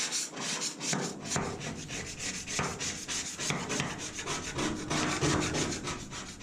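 Steady rasping scrape of a scraper stripping softened finish off a bass boat hull, continuous rubbing strokes close up, no talking.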